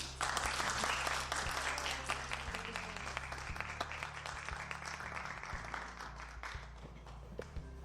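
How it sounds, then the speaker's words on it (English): An audience at a university drama and theatre event applauds as the cast comes onto the stage, with dense, steady clapping that stays loud throughout and eases slightly toward the end. "Can you please clap hands for them?"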